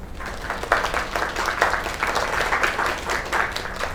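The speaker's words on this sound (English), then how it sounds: "Another round of applause." A video game crowd claps and applauds continuously, a dense, steady patter of many hands at moderate volume.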